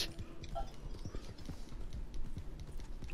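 Horse hooves clip-clop in a quick, even rhythm in the Red Dead Redemption 2 video game, close and steady throughout with faint background noise.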